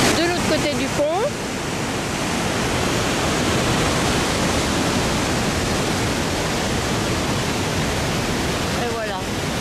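Water rushing near a bridge in Skocjan park, Slovenia, a steady broadband hiss of flowing water that runs throughout, with brief faint voices at the start and end.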